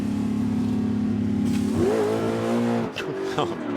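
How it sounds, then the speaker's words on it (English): A touring car spinning its wheels at the 1991 Oran Park race, a loud close engine drone that rises into a revving surge with tyre scrabble, then drops as the car pulls away. "Bit of wheel spin."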